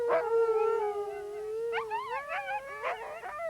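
A husky lets out a long, eerie howl that rises, then breaks into wavering, yipping phrases, close and alone.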